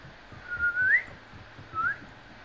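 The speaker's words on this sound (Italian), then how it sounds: "chi è quello che fischia col microfono?" A person whistles into a microphone during an Italian hide-and-seek game: one rising whistle glides upward, and after a short gap a second, shorter rising whistle follows. Both come through clearly over a low background hiss.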